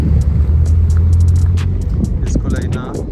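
Toyota Yaris GR race cars at a budget racing event rumble steadily with a low engine drone, close and loud, while someone talks over it.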